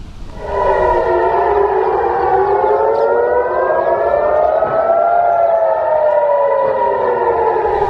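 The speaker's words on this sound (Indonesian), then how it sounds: "Sirena terdengar meraung saat Israel dan Iran saling melancarkan serangan untuk pertama kalinya sejak gencatan senjata" Air raid sirens wail across Jerusalem during an exchange of Israeli and Iranian strikes, several loud overlapping tones slowly rising and falling in a steady, continuous drone with no voices.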